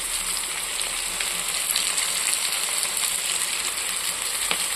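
Tomatoes, coriander leaves and chilli powder sizzle steadily in a frying pan for a Bengali fish curry with aubergine, with soft scraping and clinking of a spatula stirring through the hiss, close and continuous.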